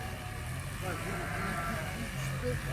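Lambs bleat repeatedly at a busy livestock market in Sokuluk, their cries close and clear over a steady crowd murmur while people talk nearby.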